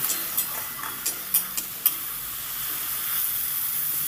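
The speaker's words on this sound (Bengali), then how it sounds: "সামান্য জল দিয়ে আমি মশলাটাকে কষিয়ে নেব" Spice paste for a kundri and potato curry sizzles in a pan after a little water is added, a steady hiss with a few sharp crackles and spits early on, then an even sizzle without talk.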